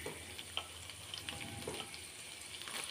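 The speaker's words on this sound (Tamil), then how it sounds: "லைட்டாக ஃப்ரை ஆகட்டும்." Soft, steady sizzling of ginger and garlic frying in hot oil, with occasional small pops and a light stir, close by and quiet.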